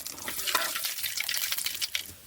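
Cinnamon and cloves frying in oil in a pan for biryani-style spiced rice, a close, bright crackling sizzle with quick sputtering bursts that fades out at the end.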